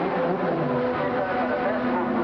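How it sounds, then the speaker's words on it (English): Ayrton Senna's Formula 1 car at the 1987 Portuguese Grand Prix, its engine revving higher in a sustained, steady drone over a thick wash of broadcast and trackside noise. "revving the engine higher"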